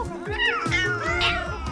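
A cat meows repeatedly in quick succession in a video game, close and clear, each cry rising and falling in pitch.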